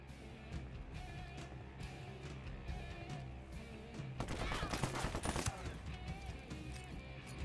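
Gunfire rings out in the tactical shooter Ghost Recon Breakpoint over a busy game soundscape, with a dense, rapid burst of automatic shots peaking midway and then tapering off, loud and close.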